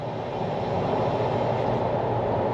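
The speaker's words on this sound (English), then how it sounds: "You can hear it compressor surging, and you're probably thinking that's full throttle." A VW Caddy with a stage 3 turbo upgrade roars at full throttle in fifth gear at low RPM, the compressor surging in a continuous loud rumbling drone heard from inside, with no talk.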